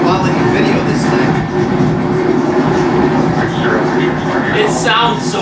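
Roaring, steady rumble of a SpaceX Starship's 33 Raptor engines in flight, continuous and loud throughout with broadband rushing noise, heard through a live stream while people react and talk over it.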